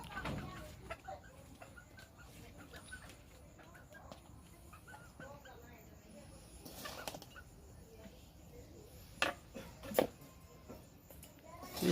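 Chickens cluck faintly outdoors, scattered short calls over a steady noisy background with a few louder bursts near the end.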